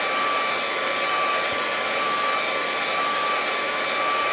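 A hair dryer blows steadily and loudly at close range, drying paint on a headland lighthouse painting, with an unbroken airy roar and a faint whine throughout.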